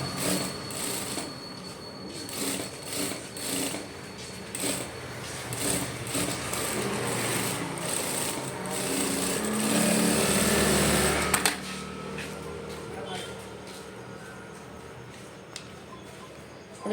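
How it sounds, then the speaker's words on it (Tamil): A sewing machine stitches the lining of a blouse, with rhythmic mechanical pulses at first that merge into a steady whirring run before easing off, heard close up. "இப்போது லைனிங்கில் நம்ம மேலே ஒரு ஊசி இட தையல் போட்டுக்கலாம்."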